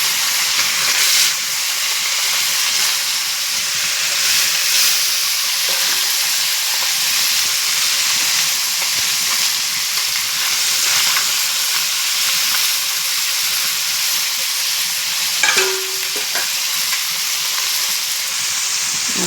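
Fish fries in a pan on a cooking stove with a continuous loud sizzle and hiss. A few clinks and scrapes from stirring break through near the end.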